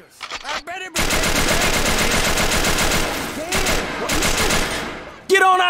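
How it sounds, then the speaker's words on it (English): Enemies firing automatic guns in Scarface: The World Is Yours, a loud, dense, sustained fusillade of rapid shots lasting several seconds, with short gaps and shouting voices at the start and end. "Why are you shooting at me?"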